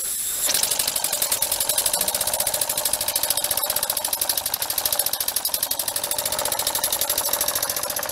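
A Mamod Roadster toy steam engine runs steadily after its fittings are tightened, giving a fast, even mechanical chuffing and clatter that carries on without a break from start to finish, close and fairly loud.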